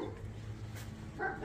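A German Shepherd guard dog barks at a rural property, a couple of faint, distant barks over low background noise.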